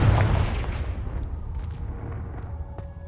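A Confringo fire spell explodes in the video game Hogwarts Legacy, one heavy booming blast that hits at once and fades into a low rumbling tail, loud and with no talking after the cast.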